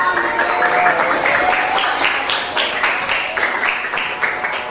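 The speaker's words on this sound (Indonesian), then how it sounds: "tepuk tangan dulu" Students in a Year 7 science class clap together in a sustained burst of applause, steady and fairly loud throughout with no pause.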